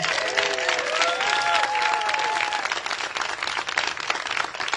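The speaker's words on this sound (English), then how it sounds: "let's give them a big round of applause" Audience at a magician's performance for a non-profit bursts into a round of applause, continuous clapping with cheering and whistle-like voices rising over it early on, steady through to the end.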